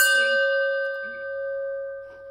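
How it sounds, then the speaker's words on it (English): A single bell struck once, a bright clear ring that hangs and slowly decays into a long sustained tone. "Let's ring my bell."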